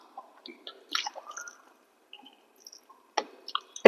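Someone eats rice with fried pointed gourd, giving soft, scattered chewing and squishing sounds up close, with a few brief clicks and a louder bite near the end, and no talking.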